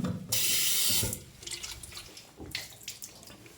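Water runs from a kitchen tap as a glass is washed before tea is made: a loud gush of running water at first, then softer splashing and clinking against the glass. Nobody speaks.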